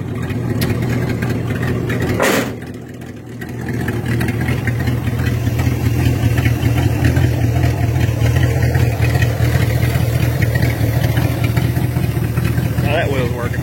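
A 1957 Chevy engine idling very low, a steady deep rumble held close throughout with a brief dip and a short sharp knock early on; someone speaks over it.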